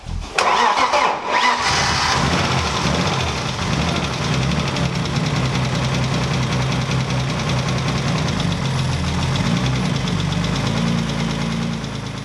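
A BMW E36 with a turbo engine build cranks briefly with a rough churn, fires up and settles into a loud, steady, slightly uneven idle, close by.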